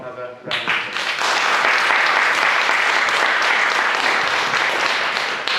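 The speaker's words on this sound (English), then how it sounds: "So can we give Charles another round of applause?" A conference audience at a games and artificial reality event breaks into sustained applause for a speaker, rising quickly after a brief moment and holding a full, steady roar of clapping throughout.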